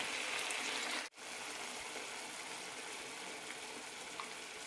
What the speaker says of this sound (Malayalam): അരപ്പ് ഒഴിക്കാം